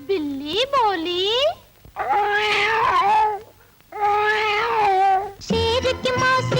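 A singing voice imitates a cat's meowing in a classic 1957 Hindi film song, drawn-out wavering meow-like cries in several phrases separated by brief pauses, clear and fairly close.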